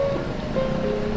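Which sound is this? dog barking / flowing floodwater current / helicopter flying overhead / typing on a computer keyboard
flowing floodwater current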